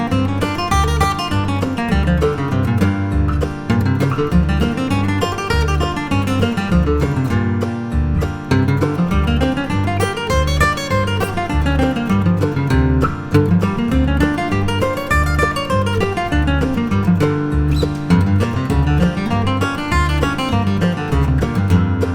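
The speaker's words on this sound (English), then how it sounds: "now I want to play that along with a strum machine backing track" Bluegrass guitar runs minor blues scale patterns over a steady strummed backing track from a strum machine, the picked melody rising and falling in repeated phrases above continuous chordal strumming, with no talk.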